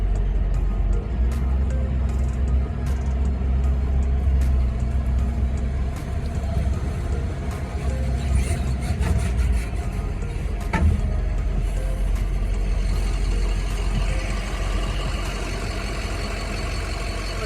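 Truck engine idling and rumbling steadily at a weigh station scale, loud and close throughout with small clanks, and no talking.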